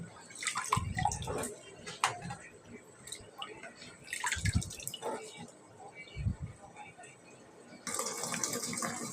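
Vegetables and fish are washed by hand in water, with splashing, dripping and sloshing in uneven bursts close by, some brief clatter, and a person talking over it.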